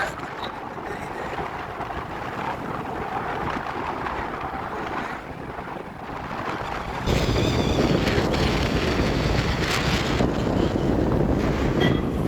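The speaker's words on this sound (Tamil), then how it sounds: "ஆனால் காற்று பயங்கரமாக அடிக்குது" Strong wind roars continuously over the microphone at the Pamban sea bridge, buffeting harder about halfway through and staying loud and gusty to the end.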